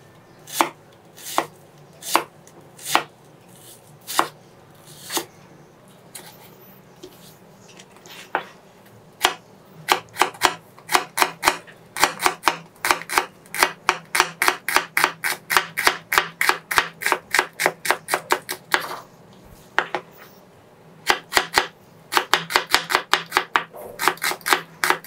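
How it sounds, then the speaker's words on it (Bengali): Knife chopping onion very finely on a board, starting with slow, spaced strikes and breaking into fast, rapid bursts of close, crisp chops, with brief pauses between runs. "এই জন্য পেঁয়াজটাকে খুবই চিকন করে কেটে নিতে হবে"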